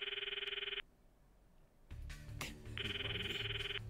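A phone ringing in the video game Steins;Gate Elite as Mayuri is called, two electronic trilling rings separated by a short pause, clear and close, with faint game sounds in between.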